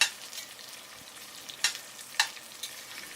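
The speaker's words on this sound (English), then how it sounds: "Fry the onions on high flame for 4 to 5 minutes." Onions fry on high flame in a pot for an Indian mutton curry, a close steady sizzle broken by a few sharp scraping clicks of stirring.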